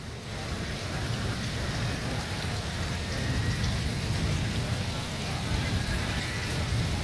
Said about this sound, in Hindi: बारिश इस वक्त जारी है